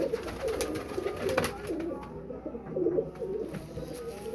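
A Sialkoti pigeon with dark eyes and heavily feathered feet coos in repeated low, throaty bursts, close by, over steady background noise.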